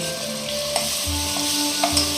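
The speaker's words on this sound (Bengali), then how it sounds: "এই যে আদা রসুন পেঁয়াজ বাটা সব দিয়ে দিয়েছি ভাজা ভাজা হচ্ছে" Ginger, garlic and onion paste frying in oil for a country chicken curry, a dense continuous sizzle close up with a few light stirring scrapes, no voices.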